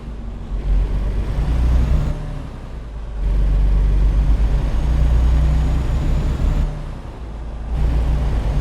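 A truck rumbles along at night in American Truck Simulator, its heavy engine droning loud and low, the sound dropping back twice for about a second before the steady roar returns.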